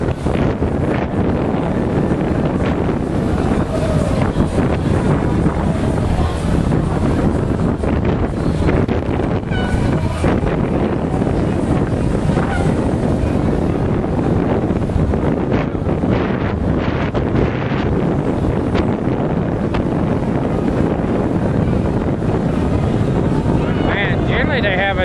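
Boats motor past in the 2009 Fort Lauderdale boat parade amid steady wind buffeting the microphone, a continuous roar of engines and water with occasional voices in the background.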